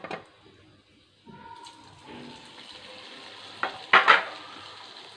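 Potato onion samosas slipped into hot oil, a low frying hiss that starts after a brief pause and swells with a couple of louder splashing sizzles near the end, close by.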